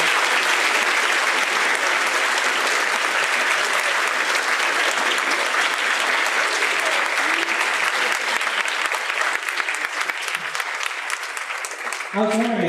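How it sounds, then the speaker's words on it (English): Sustained, loud audience applause at an anime convention panel, a dense continuous roar of clapping that thins slightly toward the end, where a voice briefly starts up. "Let's all give a round of applause to Bob Barron and Paul Melvin."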